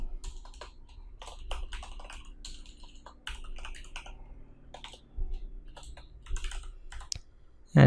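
Close computer keyboard typing of code comes in quick bursts of clicks with short pauses, ending in a louder thump.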